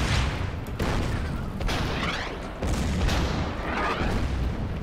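Bombing run in the Order of Battle wargame, set in Yugoslavia. Several dull booms and bursts go off in close succession over a dense, rumbling wash of explosions, loud and continuous for a few seconds.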